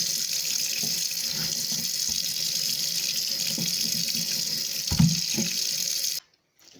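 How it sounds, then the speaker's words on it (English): Steady, close tap water streams over a ham hock in a kitchen sink, with small splashes and shifts as the meat is turned under the flow, then the water stops abruptly near the end. "We're cleaning it to remove excess blood."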